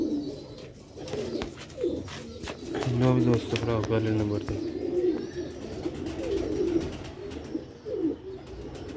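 Sialkoti black-faced Sheikh pigeons coo repeatedly up close, in deep throaty bursts and short warbling calls, while someone talks over them.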